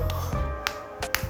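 A fist raps on a solid load-bearing wall between a kitchen and living room in a 30-pyeong apartment, making a few short, sharp knocks spaced irregularly over about a second, close by, with faint room noise underneath.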